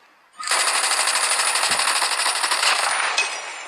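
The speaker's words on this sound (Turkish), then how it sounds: "Aha en sevdiğim silah Ahmet." Rapid automatic weapon fire in a Call of Duty match, a loud continuous burst of shots that starts abruptly and keeps hammering for several seconds.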